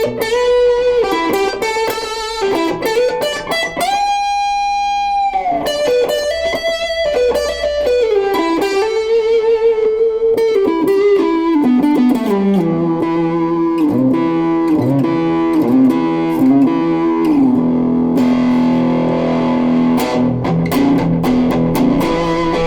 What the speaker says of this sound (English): It has reverb, which is a very short reverb.